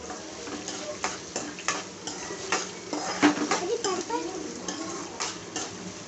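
Seasoning with coriander leaves fries in a pan while uggani is prepared, a steady sizzle with repeated scrapes and clinks of a utensil stirring against the pan, up close and without talk.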